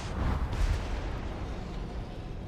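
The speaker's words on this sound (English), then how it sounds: "Smoke bomb!" A smoke bomb bursts in Minecraft: Story Mode with a loud, rumbling whoosh and a broad hiss of noise that lingers and fades slowly over a couple of seconds, with no talking.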